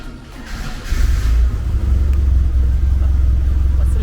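A caravan's engine rumbles close by and then swells into a low, sustained rev, loud and continuous, with no speech over it.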